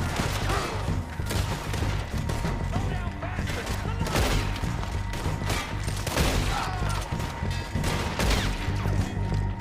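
Bursts of loud gunfire in Red Dead Redemption 2 crack repeatedly in quick volleys, with heavy booms and a low rumbling background throughout.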